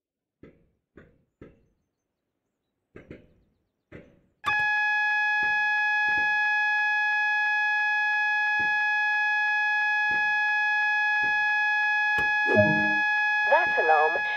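In a Train Sim World train cab, clicks and a few switch sounds lead into the AWS self-test alarm, a loud steady electronic tone that holds for about eight seconds before a voice speaks over its end.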